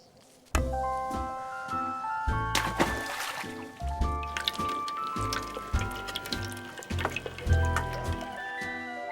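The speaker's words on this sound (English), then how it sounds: "First, we'll pour water in the pot." Water is poured into a cooking pot for soup in a series of gurgling, splashing bursts with short gaps between them, close up, over a light musical backdrop.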